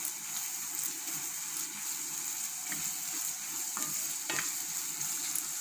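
Chopped ginger and garlic sauté in a pan in a steady, close sizzle, broken by occasional scraping taps of a spoon stirring them. There is no talking.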